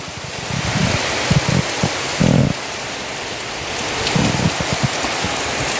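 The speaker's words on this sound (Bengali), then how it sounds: "ঝমঝম করে বৃষ্টি হচ্ছে দেখো" Heavy rain pours down in a dense, steady roar, with a few duller thuds of drops striking a nearby surface.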